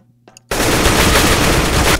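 Sustained rapid automatic gunfire from a weapon in the Roblox shooter game Counter Blox bursts in loud and close after a brief quiet moment, continuing unbroken to the end.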